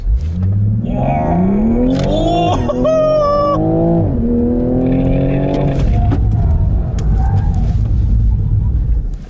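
A 2019 Toyota GR Supra A90 engine revs hard at full throttle and climbs through the gears, a loud rising roar with brief shifts, close and continuous.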